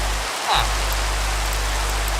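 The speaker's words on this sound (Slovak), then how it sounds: "Áno, ešte aj prší." Rain falling in a block-building video game, a steady hiss of drops on surfaces that holds evenly throughout with a faint low hum underneath and no talking.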